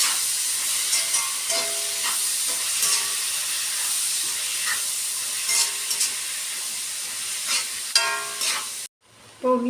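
Onions sautéing in a pan for a coconut chicken dish, a steady broadband sizzle with repeated scraping stir strokes throughout, then a brief drop to near silence before the frying resumes.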